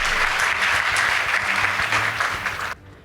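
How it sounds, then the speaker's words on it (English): An audience at a school debate competition applauds a team, dense steady clapping for under three seconds that stops abruptly into quiet. "Please give them a round of applause"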